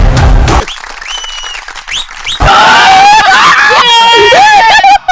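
Audience applause and excited crowd noise from a film trailer troll for Bha Bha Bha, coming in after a short burst of noise, loud and dense, with voices and shrill cries mixed in.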